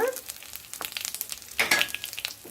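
Asafoetida with dried red chillies tempering in hot oil for a wood apple pickle, a soft crackling sizzle with scattered spatters and a brief brighter burst midway; no talk.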